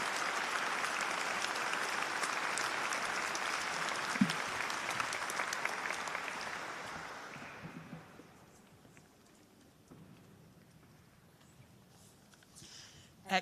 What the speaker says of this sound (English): Excellent cheering.